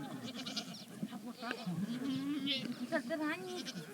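Herds of goats and sheep bleat as they return to a nomad winter camp in the evening, with many overlapping calls of kids and mothers, some near and some farther off, running steadily throughout.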